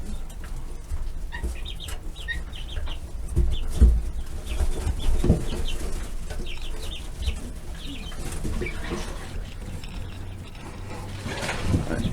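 Chickens on their first day outside cluck and chirp softly in repeated short bursts, with occasional rustling and low thumps nearby and faint wing flapping toward the end.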